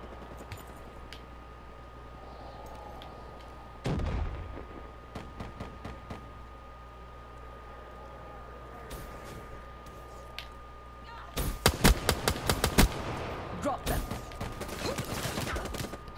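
Video game gunfire from Black Ops 3 breaks out in a sharp burst early on. Later comes a denser string of rapid shots, set against a quiet game background.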